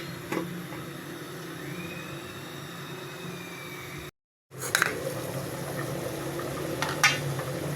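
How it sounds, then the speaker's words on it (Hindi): Water comes to a boil in a pan of potatoes and peas, giving a soft, steady bubbling with faint clicks that cuts out for a moment partway through. "पानी में बबल आ चुके हैं।"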